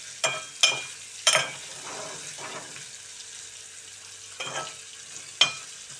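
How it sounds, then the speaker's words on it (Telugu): Brinjal pieces fry in a pan until soft, giving a low steady sizzle punctuated by a few sharp utensil knocks and scrapes, close by with no voices. "ముక్క మెత్తబడేంత వరకు వేయించుకోవాలండి"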